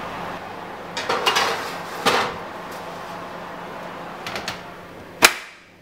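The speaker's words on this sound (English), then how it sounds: "Now it's time to put it in the oven." A cupcake tray goes into the oven with light metallic clatters and knocks, a couple of small bursts early on, then a sharp clack near the end as the oven door shuts.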